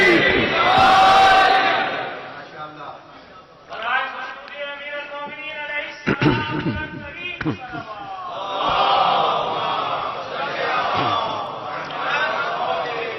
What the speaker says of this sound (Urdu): بے شک آج نعرے مار سکتے ہیں دل کھول کے